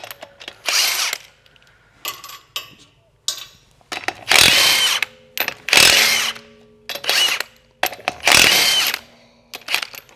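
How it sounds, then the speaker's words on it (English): A power tool, likely an impact wrench, takes the wheel off a GM truck during a garage tie rod job. It comes in several loud, repeated bursts of whirring and rattling with short pauses between them. "So we're going to go ahead and get the wheel off."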